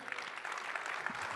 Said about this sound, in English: So a round of applause to this dashing,